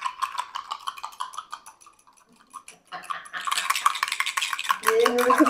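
Metal utensils clatter, scrape and stir against a pan during blindfolded cooking, a run of quick clinks early on, a near-silent pause, then busier, louder rattling and scraping at close range.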